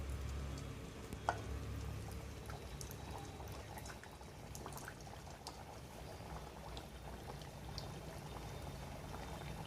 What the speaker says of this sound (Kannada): ಈಗ ಇದನ್ನು ಎಣ್ಣೆಯಲ್ಲಿ ಫ್ರೈ ಮಾಡ್ಕೋತಾ ಇದ್ದೀನಿ